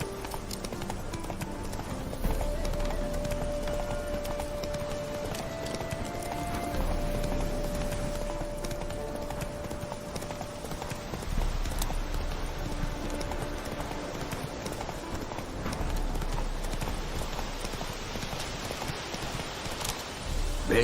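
Horse hooves clip-clop steadily through The Witcher 3, a continuous rhythmic trot over a dense bed of game ambience and background music, fairly loud and unbroken for the whole stretch with no talk.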